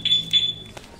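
Honda Fazzio scooter anti-theft alarm giving two short, piercing high-pitched beeps in quick succession, loud and close, followed by a faint click.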